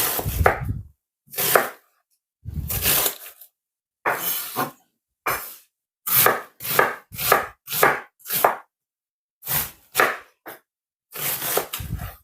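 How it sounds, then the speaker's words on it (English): Vegetables for a jerk chicken marinade being chopped on a board, a dozen or so crisp, close knife strokes landing in uneven bursts with short silent gaps between them. "it's always a good practice normally to cut them up smaller"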